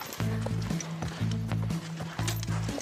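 A donkey's hooves clop steadily on hard ground in an even walking rhythm, several close, moderately loud beats with faint background noise between them.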